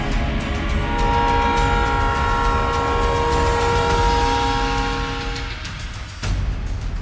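A train rumbles loudly close by, its horn blaring steadily for several seconds before fading, then the clatter of rail cars continues.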